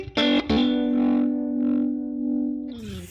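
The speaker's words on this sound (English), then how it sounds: "here's the tremolo." Tremolo pulses through a distorted electric guitar on a 1953 Fender 5C3 Tweed amp model in a Helix, pushed normal channel: two quick picked hits, then one sustained note swelling and dipping in slow waves, alone.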